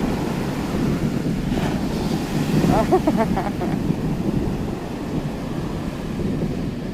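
Atlantic Ocean waves breaking on a beach, a steady broad roar of surf with wind buffeting the microphone and a faint voice-like murmur partway through.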